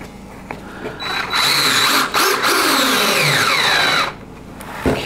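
A power drill drives screws into a silicone rubber mold box, a loud close whine that winds up, holds for about three seconds with a brief dip, then stops, with a few clicks around it.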